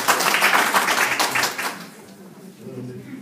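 Applause from attendees at a village meeting in Dąbrowo, a dense burst of clapping that fades out after about two seconds, followed by quieter room sound.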